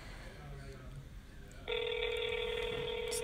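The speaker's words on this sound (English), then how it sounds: "Oh my god, it's ringing." A phone call rings through after the number is dialed, a steady electronic ringback tone starting partway in and holding loud and continuous, with faint background sound beforehand.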